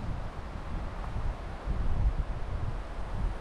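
Wind blowing outdoors on an island, a low buffeting rumble across the microphone that swells and eases, with no other sounds.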